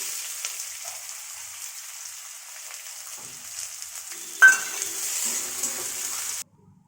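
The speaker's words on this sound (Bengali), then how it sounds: "এবার আমি পেঁয়াজ কুচিটা কড়াইয়ে দিয়ে দিচ্ছি।" Chopped onions hit a hot kadai (wok) while cooking a spicy fish curry, a steady close sizzle and hiss that swells with a sharp burst as they go in, then crackles on before cutting off abruptly.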